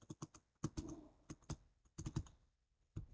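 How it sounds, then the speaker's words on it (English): Quiet, close keystrokes tap on a computer keyboard in short irregular bursts, a dozen or so clicks with brief pauses between them. "We will click on cell A3 and then we will type categories"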